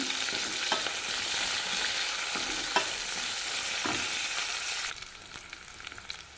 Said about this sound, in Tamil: கருவேப்பில சேர்த்துக்கிறேங்க பூண்டு சேர்த்துக்கிறேங்க நல்லா வதங்கட்டுங்க